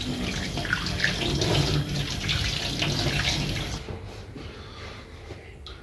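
Tap water pours steadily into a kitchen sink while tomatoes are rinsed under it, a close continuous splash that drops off and quiets in the last two seconds.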